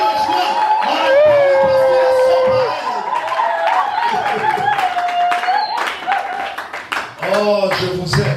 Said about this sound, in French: Et donnez gloire à Elohim par vos acclamations